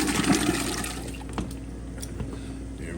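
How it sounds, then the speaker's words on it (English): Pureed San Marzano tomatoes pour into a pot in a home kitchen, a thick wet glugging splash that is loudest at first, then tapers into softer slurping drips. "Now we're gonna add our tomatoes to it."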